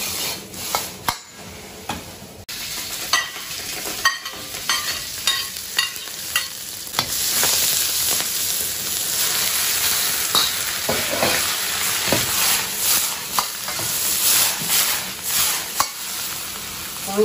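Eggs stir-fried with chrysanthemum greens in a wok, a steady loud sizzle with repeated scraping and clanking of the spatula against the pan throughout.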